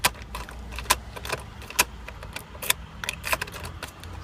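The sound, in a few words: car ignition switch clicking without engaging starter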